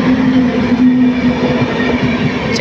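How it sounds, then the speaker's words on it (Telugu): The Konark Express runs from Chhatrapati Shivaji Terminus to Bhubaneswar and passes a platform loudly and close by. Its steady rumble carries a sustained low hum across the whole stretch. "ఛత్రపతి శివాజీ టెర్మినల్ నుండి భువనేశ్వర్ వెళ్ళే కొనార్క్ ఎక్స్ప్రెస్."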